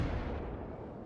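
Naval gunfire from the cruiser Des Moines at the French cruiser Colbert in the video game World of Warships: a single heavy, low boom that rumbles and slowly fades, fairly faint overall and without speech.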